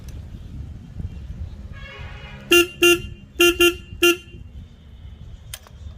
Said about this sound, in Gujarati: આ છે હોર્ન હોર્ન પણ તમને સંભળાવી બહુ સ્વીટ અવાજ છે